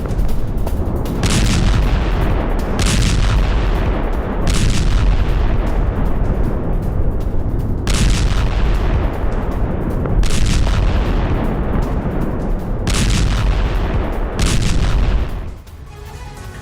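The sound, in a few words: Israeli army bombardment explosions in Gaza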